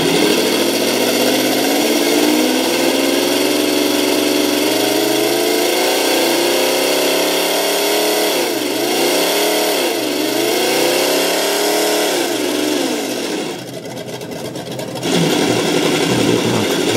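Simulated engine sound played through the speaker of an ESS One Plus 2017 scooter, a loud, continuous synthetic drone whose pitch rises and falls in a few swells, then briefly dips and returns.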